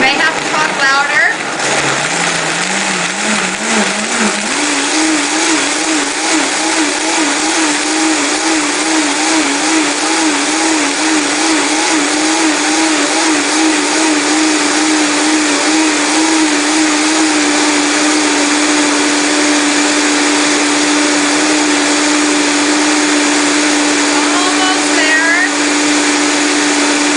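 A Vitamix blender roars steadily, its motor pitch climbing gradually as the speed is raised, then holding at a high whine, loud and close throughout with no talk.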